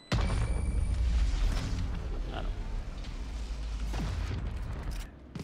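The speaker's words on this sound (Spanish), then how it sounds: "Pero son varios tiros, ¿no?" Gunfire from a full magazine in the Valorant video game: a dense, loud burst of booming shots over several seconds, heard alone without talk.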